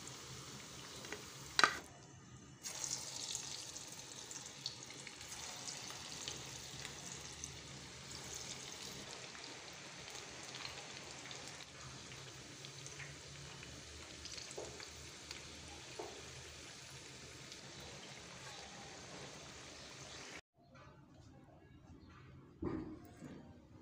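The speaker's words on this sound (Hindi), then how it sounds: "सारे पकौड़े इस तरह से फ्राई कर लेंगे।" Vegetable pakoras deep frying in hot oil, a dense continuous bubbling sizzle with light stirring knocks, then quieting near the end as a utensil clinks.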